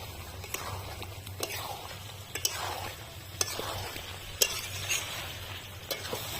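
Methi chicken being stirred in a pan with salt and turmeric: quiet sizzling frying with repeated sharp scrapes and clinks of a spoon against the pan, soft and close.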